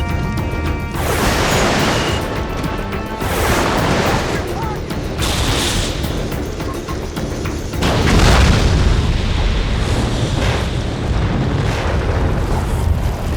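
In Jak 3, a Supernova weapon shot sets off heavy, loud booming explosions that roll and rumble for several seconds, with a stronger blast partway through and talking mixed in.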